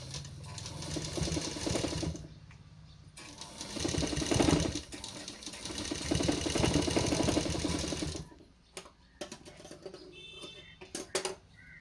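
A sewing machine stitches a baby frock in fast, steady mechanical bursts, running continuously for several seconds, pausing, then running again before stopping for a few light clicks, close and loud with no speech.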